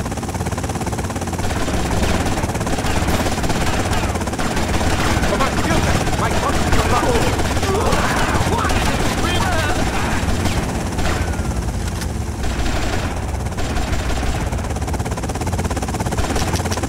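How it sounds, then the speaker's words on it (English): A loud, steady helicopter rotor thrum in Grand Theft Auto: Vice City fills the scene with bursts of gunfire mixed in, and voices talk over it. "they've got a helicopter!"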